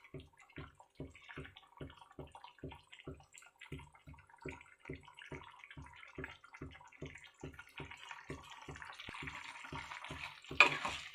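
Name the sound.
stirring chicken curry in a pot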